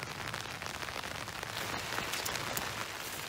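Rain falls steadily across an outdoor pasture with scattered trees and underbrush, a soft continuous patter and hiss of drops with no voices, holding an even level throughout.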